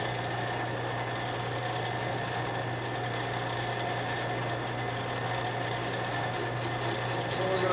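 A metal lathe turns stainless steel pins under power feed at 235 RPM, giving a steady, continuous machine hum with a low drone and faint high whine, running alone at an even level throughout.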